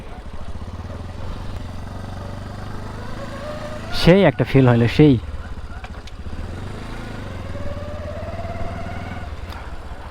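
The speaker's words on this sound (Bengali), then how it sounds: "এটা কিন্তু লেজেন্ডারি বাইক, এইটার তেমন কিছু জানি না।" A motorcycle hums along at a steady low engine drone while being ridden, with a brief burst of louder talk midway over the running engine.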